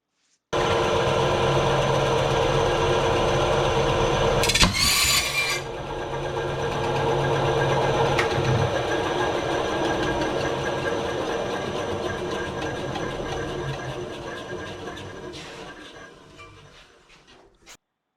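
A bandsaw cuts an aluminum part for a Van's RV-7A rudder, a loud steady whirring buzz with a sharp clatter midway, then the motor winds down and fades near the end.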